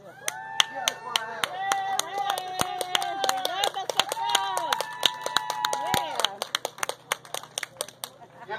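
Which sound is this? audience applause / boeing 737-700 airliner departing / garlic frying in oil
audience applause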